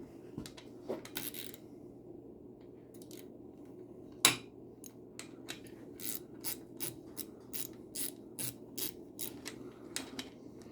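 Ratchet wrench tightening the fork top and bottom clamp bolts on a YZ250 dirt bike's front suspension, with a run of quick, even clicks close by, one sharp metallic clank, and no talking.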